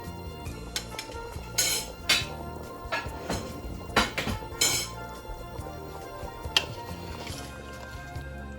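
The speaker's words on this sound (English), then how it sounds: "after adding all of the rice, I'm going to give it a really good stir." Rice being stirred in a metal cooking pot for shrimp and vegetable rice, with intermittent clinks and scrapes of the utensil against the pot, fairly quiet and irregular.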